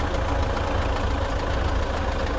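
Tractor engine running loud and close as it pulls away, a steady low rumble with an even mechanical chug throughout and no voices.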